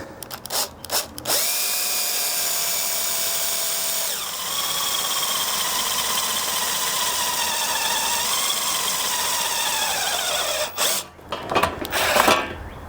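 A power drill whines loudly and steadily for about ten seconds as it drills through wood into a wood block beneath, its pitch dipping slightly as it bites, with brief handling clatter before and after.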